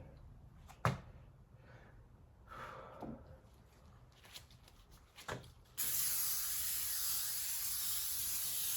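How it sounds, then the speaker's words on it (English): Short hissing sprays of ferric chloride onto foil wrapped around pottery for pit firing, with a few sharp taps, then a steady loud spray hiss that runs to the end. "I really kind of like this idea of spraying the foil"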